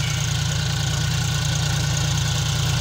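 A 2023 John Deere 5105 tractor engine idles, a loud, steady, close diesel drone with an even low throb and no breaks.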